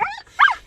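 A male dog barks while trailing people outdoors, giving two short, close yelps with a brief pause between them.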